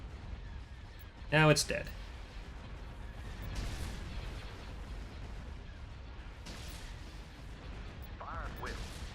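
A space fleet battle in Thrawn's Revenge, with a sharp mechanical burst of missile fire followed by scattered softer launches and impacts over low rumble, while a voice briefly speaks.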